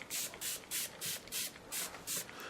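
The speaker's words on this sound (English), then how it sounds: "I'm going to spray that with my water spray because it's just drying so quick." Short bursts from a hand water mister sprayed onto a watercolour painting of rocks to keep it from drying, about seven quick even hissing puffs in a steady rhythm, close and alone.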